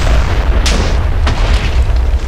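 In Minecraft, a loud explosion rumbles on with a deep roar, and two sharp bursts crack through the heavy low boom.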